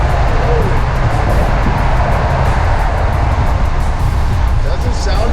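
A convertible Range Rover Evoque drives through a tunnel in Dubai, a loud, dense engine and road roar echoing continuously around it, with someone talking over the noise throughout.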